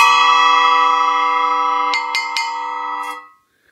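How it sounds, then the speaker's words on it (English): A 9-inch Samsung Raw Spark FX splash bell cymbal struck solo, ringing with bright sustained bell tones that slowly decay, followed by three quick light strikes near the end before it is choked to silence. "Samsung Raw Spark FX Bell, or Splash Bell, and its size is 9 inch, and in solo it sounds like that."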